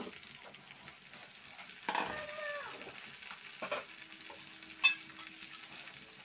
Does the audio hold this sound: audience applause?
no